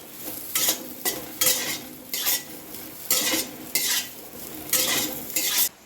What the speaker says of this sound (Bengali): এখন আবার একটু কড়াইতে তেল দিয়ে আমি সয়াবিনগুলো দিয়ে দিলাম